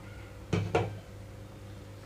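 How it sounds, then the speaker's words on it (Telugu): A lid lifted off a cooking pot of cabbage kurma with softened tomato, giving two quick, close knocks about a quarter second apart over a low steady hum, then quiet. "రెండు మూడు నిమిషాల తర్వాత మూత తీస్తాను నేను ఇక్కడ"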